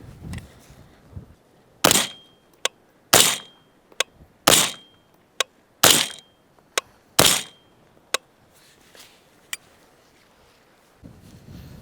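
Suppressed rifle with a Huxwrx Flow 556K suppressor firing five shots outdoors, each a sharp loud crack with a brief tail, spaced roughly a second apart, with fainter echoes and clicks between.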